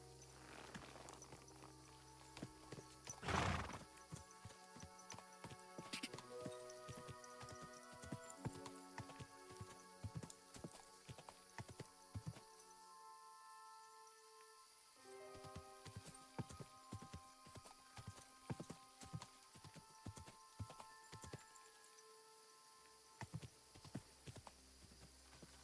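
A horse in Kingdom Come Deliverance 2 walks with quiet, irregular hoof clops, faint and distant-sounding, over soft game music with long stretches of hoofbeats.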